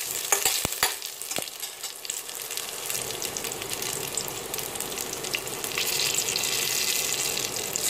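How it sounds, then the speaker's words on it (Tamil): Big onions sautéing in hot oil for hotel-style sambar give a steady, close sizzle with soft stirring scrapes. A few sharp clicks come early, and the frying grows a little louder toward the end. "இப்போ இந்த பெரிய வெங்காயம் லேசாக வதங்கி ஒரு பிங்க் கலர் ஆனோடனே"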